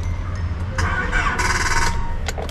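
A car engine cranks repeatedly on a weak battery and fails to start, a steady grinding churn with a brief squeal, close and loud, with no speech.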